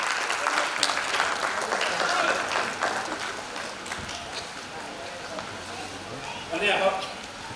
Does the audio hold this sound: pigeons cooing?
no